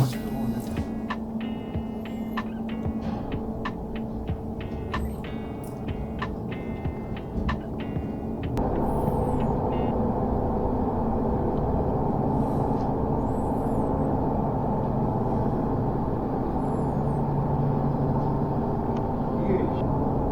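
An industrial production line runs after its motors are started through an autotransformer starter, a steady low machinery hum that grows louder and fuller partway through and then holds constant, with some faint talk early on.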